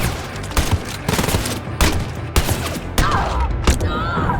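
Pistol gunfire in the shooter game Wolfenstein Youngblood: a run of sharp, loud shots in uneven bursts over a steady bed of game noise, about half a dozen cracks across the stretch.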